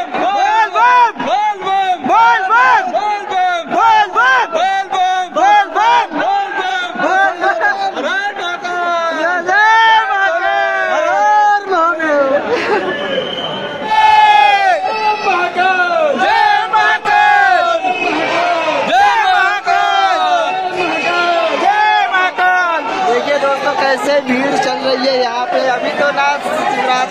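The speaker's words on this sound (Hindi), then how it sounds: "अभी देखो इधर कितना भीड़ है।" A dense crowd of pilgrims chants Bol Bam at Mahakaleshwar temple in Ujjain, loud, close and continuous for the whole stretch, with voices overlapping in rhythmic, repeated calls and shouts.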